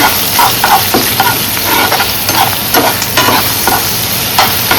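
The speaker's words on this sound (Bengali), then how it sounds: "এবারে আদা রসুনটা ভালোভাবে কষবো।" Ginger garlic paste fries in hot oil with a steady loud sizzle, overlaid by repeated scraping and stirring strokes from a utensil in the pan.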